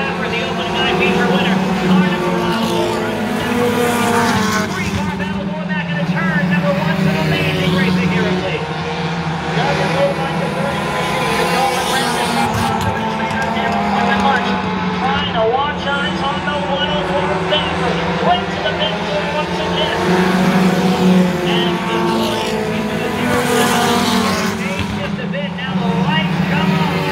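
Pure stock race cars roar around the oval at Lee USA Speedway in a three-car battle, engines droning loudly and continuously beneath an announcer's steady commentary.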